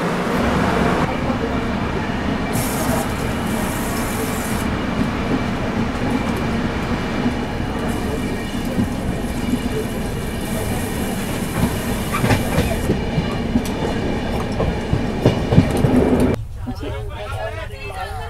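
A passenger train on the Howrah to Dibrugarh route rumbles along with steady clickety-clack from the wheels and a loud, constant roar, while voices talk in the carriage.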